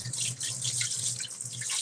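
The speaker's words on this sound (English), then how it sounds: "So just a little rinse, kind of swish it in the water." Rice being rinsed and swished by hand in a bowl of water at a kitchen sink, giving a steady close splashing and trickling wash of water with no speech.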